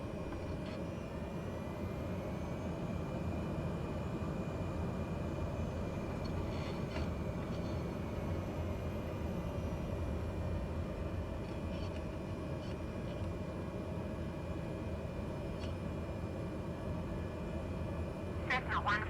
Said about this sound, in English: Cessna November Mike 151 taxi to general aviation parking using taxiway.